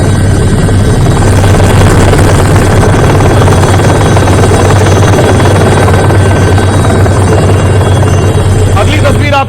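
An Indian Air Force rescue helicopter hovers over cyclone floodwaters in Sri Lanka, its rotor drone loud, close and continuous throughout, with a steady low throb.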